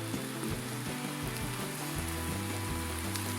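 Rain falls in a video game as a steady, hissing patter that never lets up, layered over low droning tones.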